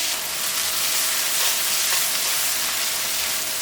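Sliced onions fry in hot oil in a pan while being cooked down for a chicken roast, giving a steady, close, even sizzle with no voices.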